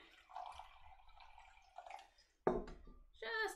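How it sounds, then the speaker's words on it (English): Half a cup of water is poured into a container for a kids' chemistry activity making chalk, heard as soft splashing and trickling, quiet and close, ending with a louder splash and dripping. "I'm gonna add a half a cup of water. Let's put our half a cup of water in."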